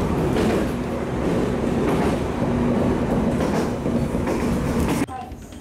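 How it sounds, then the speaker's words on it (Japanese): A local train rumbles steadily with rolling wheel noise and a faint high squeal, then the sound drops abruptly near the end as it comes to rest at a station. "列車はお隣の駅、総合駅に到着するわけですが"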